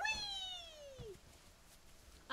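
A cartoonish cat meows once in the video game Monster Hunter World, a clear falling cry up close, followed by quiet game ambience and a short second meow starting at the end.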